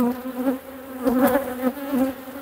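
Honeybees buzz around beehives during queen rearing, a steady close drone with a clear humming tone that swells as individual bees pass near.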